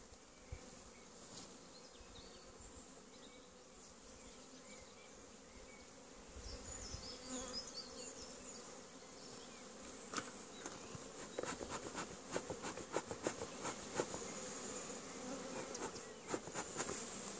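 Honeybees buzz steadily in an opened hive of a strong colony, a dense close hum with scattered louder passes, plus light clicks and knocks of frames being handled.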